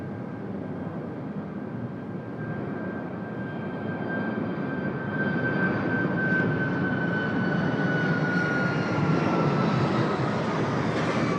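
A Qantas jet airliner takes off at Sydney Airport, its engines a steady, loud, broadband roar with a faint rising whine that holds and swells slightly throughout, with no talk.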